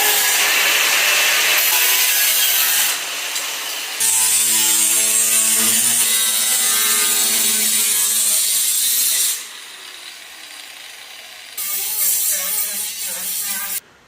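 A power saw cuts through a car firewall section, producing a loud, sustained grinding rasp with changing pitch and short pauses between cuts.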